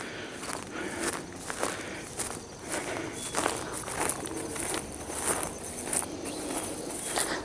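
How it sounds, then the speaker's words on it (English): Footsteps crunch over dry, crispy ground on a wooded trail loop near Downey Brook, a steady close walking rhythm of brittle crackles with faint insect and bird sounds behind. "Ground's crispy. It almost sounds like you're walking on frost."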